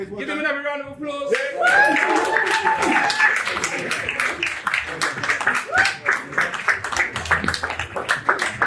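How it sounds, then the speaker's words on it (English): An audience claps for the boys of a rites-of-passage academy at a graduation ceremony, with sharp, fast, close claps and voices calling and talking over the applause. "Give them another round of applause"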